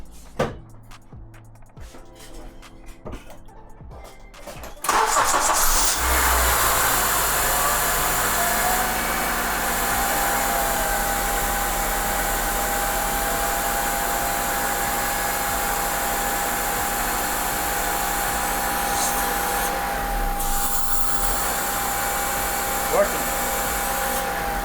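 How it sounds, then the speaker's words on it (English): After some clunking, an Acura RSX engine starts and settles into idle, with a loud continuous airy hiss from the idle air control valve riding over the steady hum. "You can hear definitely the intake of that IAC valve really hissing really loud"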